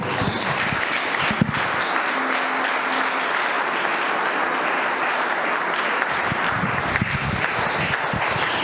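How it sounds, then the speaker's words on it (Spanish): Congregation at a church service bursts into sustained, dense applause, loud and steady throughout with a few shouts rising over the clapping. "Den el aplauso al Eterno."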